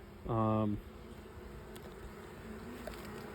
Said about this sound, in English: The other side's got even more bees on it here.